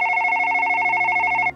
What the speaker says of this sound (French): vous entendez le téléphone sonner